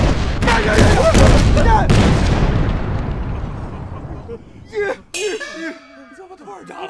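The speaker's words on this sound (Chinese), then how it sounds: "你怎么突然炸了？" Sudden explosion in a war film, a loud booming blast with rumbling debris that slowly fades, followed by shouting voices.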